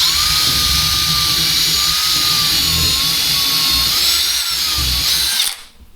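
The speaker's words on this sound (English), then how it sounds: "we can just pre-drill this one with a smaller bit going straight into the stud." A power drill with a small bit pre-drills into a wall stud, whining steadily at high speed, its pitch wavering slightly as it bores in, then winds down and stops near the end.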